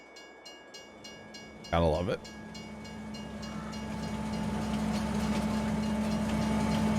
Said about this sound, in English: Here comes the train back.